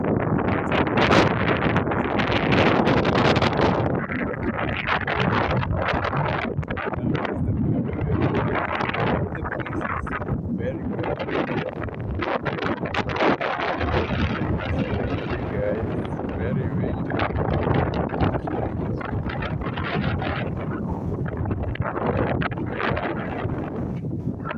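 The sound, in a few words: strong wind blowing on a hilltop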